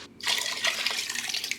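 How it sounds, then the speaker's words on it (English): Water pours into a soup pot with tomato sauce and salami. After a brief quiet moment a steady, splashy gush starts suddenly and runs on without pause, close and fairly loud. "we're going to be adding some water."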